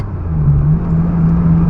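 A Ferrari 550 Maranello with a gated manual gearbox accelerates hard, its engine note loud, close and steady as it builds a low rumbling drone that climbs gently in pitch with no talk.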